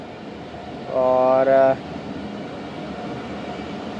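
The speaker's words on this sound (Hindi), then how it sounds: "मियाँ चन्नू से ट्रेन हो रही है रवाना" A passenger train departs a station at Mian Channu, Pakistan, with a brief loud horn-like tonal blast over steady rumbling mechanical noise, and a voice speaking briefly.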